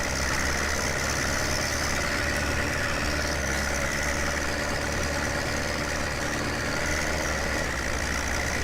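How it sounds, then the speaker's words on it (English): A tractor engine labours under heavy load in the Farming Simulator 17 video game, a steady, dense mechanical drone that holds constant for the whole stretch with no talk. "Tractor is struggling quite a bit."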